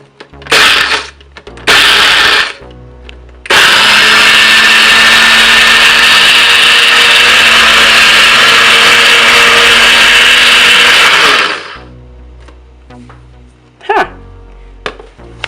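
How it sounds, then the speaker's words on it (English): A Nutribullet blender grinds clumps of maple sugar into fine powder, roaring loud and steady for about eight seconds after a few short bursts, then cutting off to faint clatter. "Nutribullet, and I'm just going to put the cap back on and get these thicker pieces of sugar, the clumps, to get really fine"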